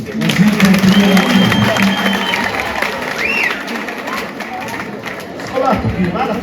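An audience at a festive celebration gives a brief, loose round of applause amid lively crowd chatter and cheering, with a voice speaking over it.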